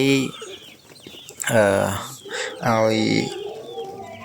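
Farm chickens raised outdoors cluck and squawk loudly nearby in several harmonic bursts, with short gaps between the calls.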